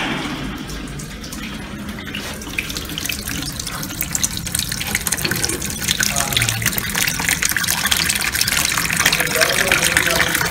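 Tap water runs steadily into a toilet cistern, a continuous gushing splash that grows slightly fuller and louder as it fills.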